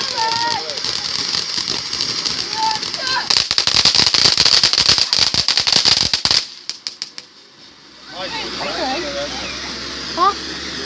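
A box heart firework with a lit fuse goes off in a rapid, loud burst of crackling pops lasting several seconds before it stops abruptly, with people talking and exclaiming before and after.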